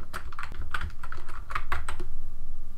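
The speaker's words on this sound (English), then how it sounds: "Now you just start typing." Someone types quickly on a computer keyboard for an image-editing text tool, producing a close, crisp run of irregular key clicks and taps with no voices over them.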